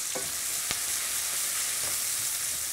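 Onion and garlic sizzle in a pan while a wooden spoon scrapes the browned bottom, a continuous close frying hiss broken by a few short scraping knocks, with no talking.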